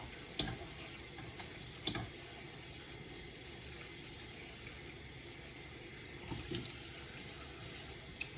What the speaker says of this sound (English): So I'm rinsing them with cold water.